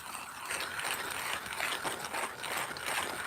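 Timemore C3 Pro manual coffee grinder crushing espresso beans by hand, a steady gritty ratcheting crunch that runs continuously and close up with no talking.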